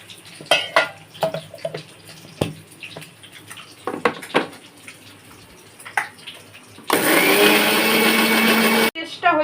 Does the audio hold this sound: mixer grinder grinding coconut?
yes